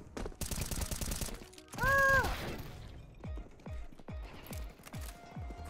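Counter-Strike 2 gunfire rings out as a quick run of sharp shots near the start. Several evenly spaced single reports follow later, with a brief tonal game sound between them.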